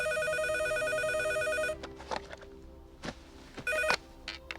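A telephone ringtone repeats as a steady electronic pattern of tones at moderate level, stops, and a brief second burst follows after a few seconds, with faint household knocks and footsteps in between and no talk.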